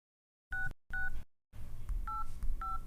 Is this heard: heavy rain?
no